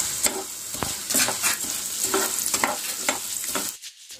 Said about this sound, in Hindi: तो चलिए मसूर दाल भी हम यहाँ पे फ्राई कर लेते हैं।